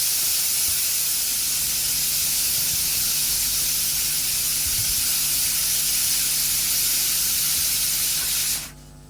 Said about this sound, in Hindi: और उसके बाद ये विसल आनी शुरू हो गई है।